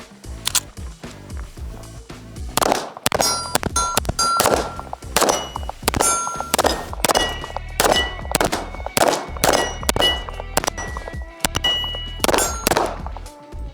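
A Kimber 2K11 pistol fires round after round at targets: a long string of loud, sharp, close reports with some metallic clangs, spaced irregularly and closely, with brief pauses between shots.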